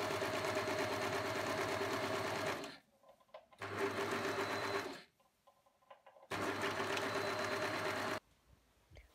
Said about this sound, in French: On surjette ou on zigzague les valeurs de couture ensemble.